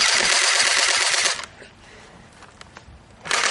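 A Hailstorm BB gun fires a rapid, loud burst of closely spaced shots outdoors, falls to quiet rustling for about two seconds, then a second burst starts at the end.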